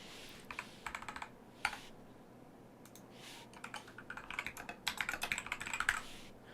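Keyboard typing while form fields are filled in on a computer, quiet and close, with short irregular bursts of keystrokes separated by brief pauses and growing denser toward the end.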